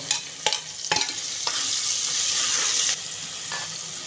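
Chopped green chillies go into a pan with tomatoes for nonbu kanji, a Ramadan rice porridge; a bright, steady sizzle follows a few stirring knocks against the pan, close and loud.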